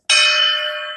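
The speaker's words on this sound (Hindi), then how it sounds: "नीचे घंटी लगाई हुई है" A single bright ring from a bell hung beneath an old cart in a Haryana heritage museum, struck once and sustaining with a clear metallic tone as it slowly fades.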